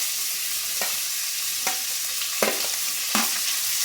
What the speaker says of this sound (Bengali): এবার আমি ভালোভাবে ভেজে নেব